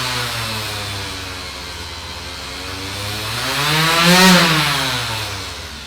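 A Makita 5-inch orbital sander runs as a steady motor whine that dips as the speed is turned down, then swells in a slow rise and fall of pitch. It is loud and close, with no talk.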